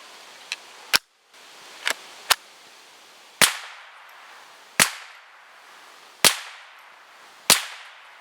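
Sharp, close gunshots fired at a Pigeon Perch target at short range outdoors, about eight cracks spaced irregularly around a second apart, each with a brief tail, with quiet between shots.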